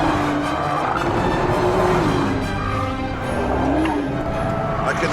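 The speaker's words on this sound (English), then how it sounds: "I can hear the tyres squealing now." A Nissan GT-R R35 with a 500-horsepower engine pulls under hard throttle, its tyres squealing in a wavering whine over a loud, continuous roar of engine and road noise.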